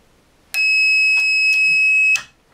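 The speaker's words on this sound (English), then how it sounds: "the crocodile clip will touch the metal plate and the alarm will sound" An Up! Plus 3D printer's end-of-filament alarm gives a loud, steady high-pitched electronic tone lasting about a second and a half, with faint clicks at its start and end.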